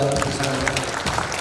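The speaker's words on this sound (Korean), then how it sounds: "박수 한번 해주시겠습니까?" A seminar audience at a Korean church applauds a guest who has stood up, dense clapping briefly filling the hall while a voice speaks over it.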